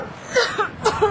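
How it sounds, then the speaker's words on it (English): A person coughing into a sleeve, giving a short burst of a few muffled, throaty coughs that are close and brief. "We must train ourselves to cough into the nearest appropriate fabric, which is usually a sleeve"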